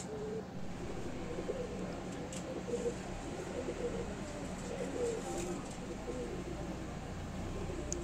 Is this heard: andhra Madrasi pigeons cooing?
yes